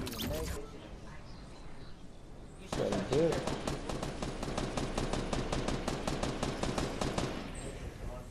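Video game gunfire rattles in a long rapid automatic burst of evenly spaced shots, preceded by quieter game sounds and softer scattered shots.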